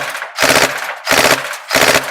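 Tokyo Marui EVOLT airsoft electric blowback rifle fires three loud, close full-auto bursts, each a rapid mechanical rattle of shots with short pauses between.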